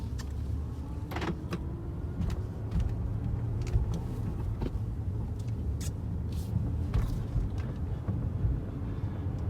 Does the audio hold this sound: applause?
no